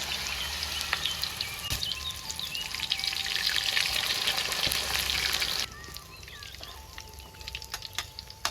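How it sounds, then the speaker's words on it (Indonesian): Battered shrimp frying in hot oil: a dense, loud sizzle and crackle that drops abruptly to a quieter bubbling after a few seconds, with scattered pops. "Udangnya digoreng, Lur."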